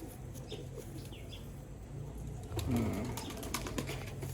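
Giribaz pigeons in a loft near Dhamua station give a few low coos over faint rustling, with a slightly louder cooing burst midway, quiet and close.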